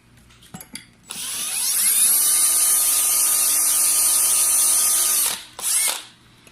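A power drill with a 3/32 bit spins up and whines steadily for about four seconds drilling pilot holes for screws, then stops, followed by a brief second burst; loud and close.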